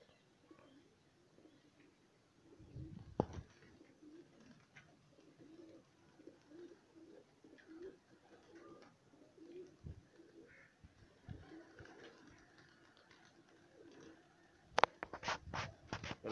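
Pigeons coo softly and flutter nearby, a faint murmur of low calls and scratchy rustling, punctuated by a few sharp wing claps and a burst of flapping near the end.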